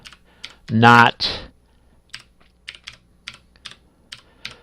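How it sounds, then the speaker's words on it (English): Typing on a computer keyboard into an eBay report form: a short spoken word near the start, then a sparse, fairly close series of separate key clicks spaced about half a second apart. "And you can type here whatever you want."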